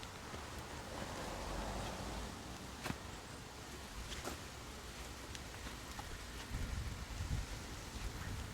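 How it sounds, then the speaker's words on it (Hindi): Rain begins to fall on a Halloween night in Canada as a faint, continuous patter with a few sharper drip ticks and low rumbles, and no one speaks. "तो अब यहाँ पर बारिश शुरू हो चुकी है।"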